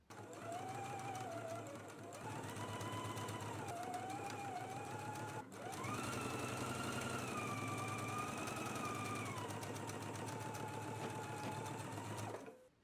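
A sewing machine stitches a vest lining to its fabric in rapid, even bursts of whirring and ticking, with two short pauses between runs, heard close and clear.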